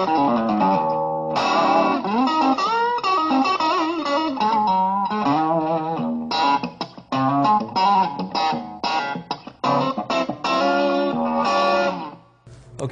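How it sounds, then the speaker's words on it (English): A modeled Fender Stratocaster with single-coil pickups runs through a Fender Twin amp, playing a continuous clean-toned melodic line with bent, wavering notes and bursts of strumming, close and steady in level. "we're going to model a Fender Stratocaster with a single coil, obviously, into a Fender Twin amp"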